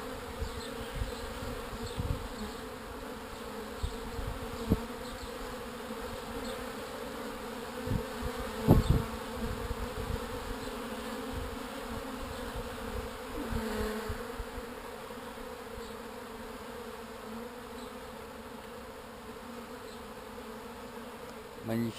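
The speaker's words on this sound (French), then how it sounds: "On voit les abeilles qui viennent amener du pollen." Bees buzz continuously close by, a steady droning hum with occasional louder passes and soft knocks over about twenty seconds.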